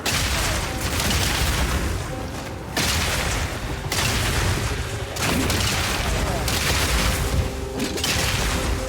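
Repeated explosive shots burst in Path of Exile 2, a dense, continuous barrage of booming blasts and gunfire that rolls on in loud waves, briefly dropping out between bursts.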